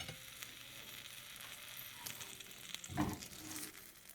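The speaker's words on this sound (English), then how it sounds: "Some of that sizzling is from this ham." Ham frying in a pan, a soft, steady sizzle with crackling spits throughout and a brief louder burst near the end, heard alone without talk.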